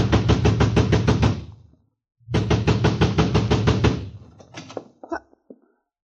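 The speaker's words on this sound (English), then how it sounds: "I ran to the front door and began pounding." Rapid, heavy pounding on a front door in a radio drama, two loud bursts of fast knocking separated by a short gap, followed by a few scattered fainter knocks.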